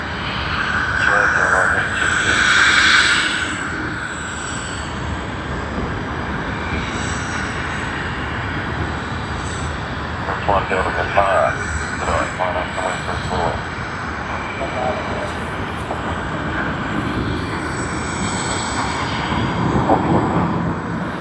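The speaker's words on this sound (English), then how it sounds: "EK415 just around about to line up on the runway for its departure" An Emirates 747 at Sydney Airport rumbles steadily from a distance as it taxis toward the runway for departure, a continuous broad engine and APU drone lasting throughout, with people talking over it.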